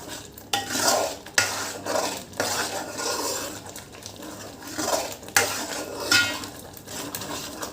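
A spoon scrapes and clatters in a pan as chilli powder is stirred into a fish curry, with irregular metallic knocks and a faint sizzle underneath.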